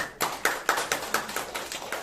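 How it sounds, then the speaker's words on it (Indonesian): A small church Christmas-program audience claps briefly in several distinct claps, a sparse, uneven burst of hand claps close by with no talking. "Tepuk tangan dulu dong"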